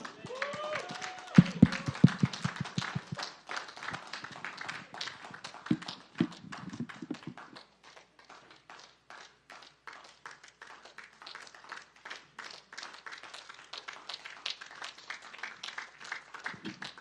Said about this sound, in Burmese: အားလုံးမတက်ရပြီးလက်ခုပ်တီးပြီးတော့ကြိုဆိုကြရအောင်